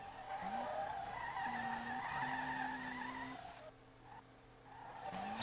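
A Nissan Skyline drift car is drifting in SLRR, with its tires squealing in long sustained screeches. The squeals rise and fall in pitch over a steady engine drone, then a brief lull before the squealing starts again.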